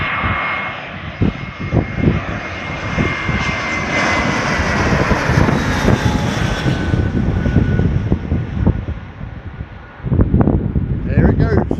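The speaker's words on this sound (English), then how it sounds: "more planes coming into land. Nice evening landing here." Airplane coming in to land at Málaga airport in the evening, a loud steady engine roar with wind buffeting the microphone as it passes close overhead, with someone talking over it.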